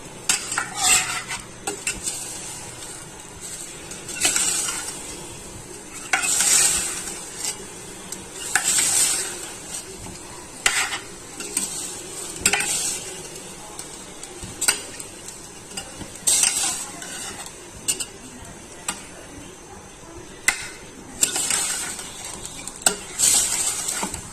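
Chicken pieces fry in turmeric in a pan, a constant sizzle broken by repeated scraping strokes of a spoon stirring against the metal, close and unaccompanied by talk.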